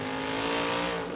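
A drag racing Roadster launches off the line at a Las Vegas event, a loud, sustained roaring engine blast heard close and steady for about a second.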